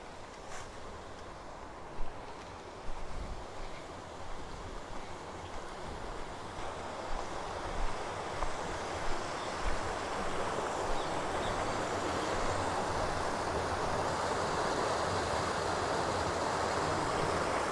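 Steady rushing water flows continuously at a rainy-season river crossing, growing broader and louder over time, with no voices present.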